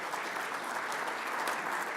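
An audience at a Chamber Day Senate panel gives a dense, even round of applause that carries on without a break for the whole stretch.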